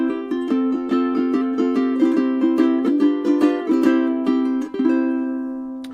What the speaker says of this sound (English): another felt one. This one's much thicker